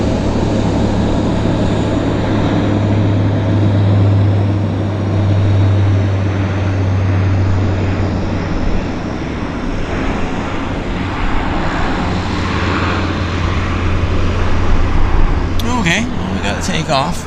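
A Cessna Citation business jet takes off at Vancouver airport, a steady, loud engine roar with a deep drone that swells and fades over many seconds while people talk nearby.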